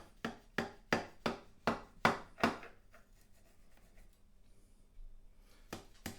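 A knife cuts into a mince beef and onion pie, crunching through pastry in about eight quick rhythmic crackling strokes, then a pause and two more close crisp crunches, nobody speaking.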